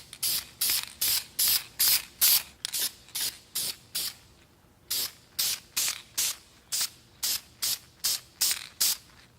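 Short bursts of spray paint hiss in a steady rhythm as a third coat goes onto brake calipers, close and loud, about fifteen even pulses with one brief pause midway and no talk.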